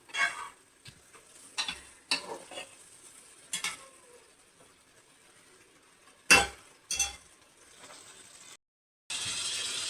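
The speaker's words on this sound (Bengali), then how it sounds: "তো মশলাটা একটু কষা হোক।" Spices and boiled potatoes are worked in a pan with a utensil, making sparse scraping and clattering bursts over a faint sizzle. Long quiet stretches fall between the strokes, and a louder hiss rises at the very end.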